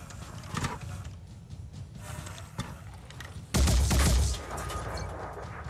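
Enemy gunfire in a video game, a scatter of sharp shots and bursts with a dense loud volley near the middle, heard over constant game background noise.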